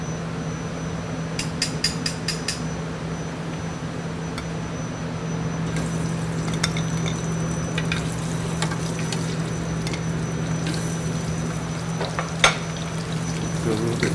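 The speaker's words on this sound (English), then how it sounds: "you want to get your pan searing hot so you get a good sear on your scallops" Scallops searing in a very hot pan, a loud continuous sizzle and crackle with a steady low hum underneath and scattered sharp pops and spatters, close up, with no talking.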